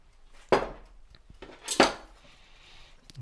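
Utensil clinks and scrapes against a bowl while half a cup of warm milk is mixed into spiced cake batter, two sharp clatters close up with quieter scraping between, no talk.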